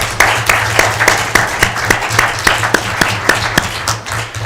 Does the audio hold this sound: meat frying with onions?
no